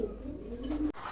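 King Lahori Mundi pigeons coo in low, soft rolling tones, close but quiet under a noisy background, with a brief knock near the end.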